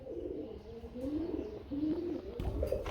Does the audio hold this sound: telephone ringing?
no